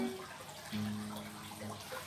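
Water from an aquarium trickles and burbles in a room, a faint, continuous splashing with a low hum underneath and no talk over it.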